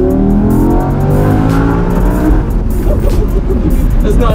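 A 2018 Audi R8 V10 Spyder in performance mode accelerates hard, its engine loud and close with rising revs and wind noise, climbing steadily through the gears.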